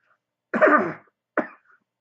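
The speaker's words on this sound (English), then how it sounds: "Also, I have a coughing problem." A single harsh cough followed by a short throat clearing, close and isolated against silence.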